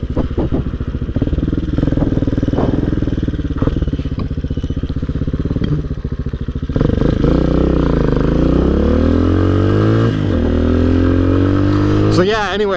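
A Honda Hawk 250 motorcycle on a ride, its engine running loud and steady close to the mic, then revving up with rising pitch as the bike accelerates after a turnaround, with a quick throttle blip at the end.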